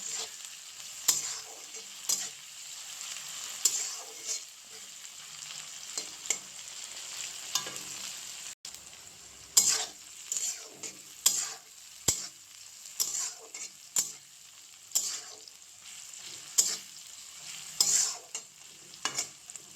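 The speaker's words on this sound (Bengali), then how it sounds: "ভালো করে পেঁয়াজটাকে ভালো করে একটু ভেজে নেব" Onions fry in oil seasoned with salt, a constant hissing sizzle punctuated by a rhythmic series of scraping stirs from a spatula against the pan, close up with no voices.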